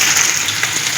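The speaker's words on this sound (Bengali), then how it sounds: "আলুগুলোকে একটু ভেজে নিই" Potatoes frying in oil give a loud, dense, continuous hiss and crackle that holds steady throughout, with no voices.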